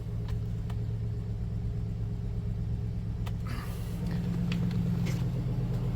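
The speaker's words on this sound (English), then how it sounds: "This does have a little beefier sounding exhaust from the factory." GMC Yukon on the GMT800 platform with a slightly beefier factory exhaust, rumbling at a steady low idle or cruise, with a faint brief disturbance midway and no talking.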